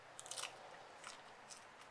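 A crisp, crunchy jujube fruit being bitten and chewed, with a sharp crunch of the first bite followed by a few quieter chewing crunches, close up and without talk.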